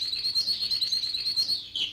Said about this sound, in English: In its cage, the yellow canary sang happily, and the tension disappeared.